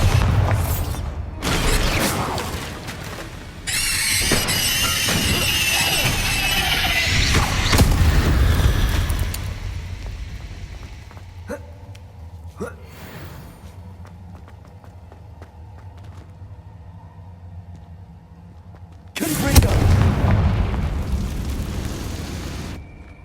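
Confringo and Bombarda spell blasts in Hogwarts Legacy, heavy booming bursts with rumbling debris, a loud spell burst early on, quieter rumbling in the middle and another big blast near the end.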